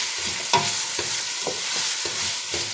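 Vegetables for borscht fry in a pan with a steady close sizzle, punctuated by regular scraping stirs about every half second.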